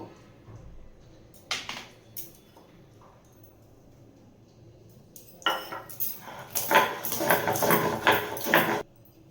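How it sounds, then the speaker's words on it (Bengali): Spices are ground by hand on a stone sil-pata, giving close, gritty rasping strokes: a brief burst early on, then a long run of repeated rough back-and-forth grinding toward the end. "এরপর আমি এইগুলো সব সিঁড়ি পাটাতে বেটে নেব আমি সব এক এক করে বেটে নেব"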